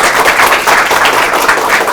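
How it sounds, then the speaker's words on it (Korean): An audience applauds at a women's startup competition awards ceremony in Korea, a dense, continuous patter of many hands clapping at close range. "일어나서 박수 좀 쳐주세요."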